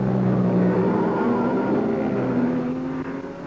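Triumph TR2 race cars running in a 1954 race: a sustained close engine drone with shifting pitch, a car holding revs before fading slightly at the end.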